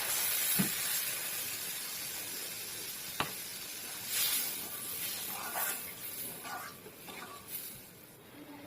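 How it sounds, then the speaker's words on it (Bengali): Bengali curry gravy with coconut milk bubbling in a pan, a soft continuous sizzle and simmer with scattered pops and occasional stirring clinks, fairly quiet and without talk. "ঝোলটা ফুটে গেছে"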